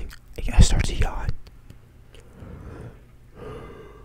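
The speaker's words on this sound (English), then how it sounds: "Like that, I yawn." A breathy, drawn-out yawn with a sharp inhale and a softer exhaling sigh, close and alone, followed by a quieter breathy tail.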